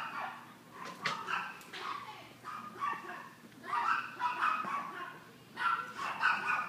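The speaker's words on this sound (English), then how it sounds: "Aside from a barking dog." A dog barks outdoors, some way off and fairly faint, in repeated bursts of several sharp barks with brief pauses between them.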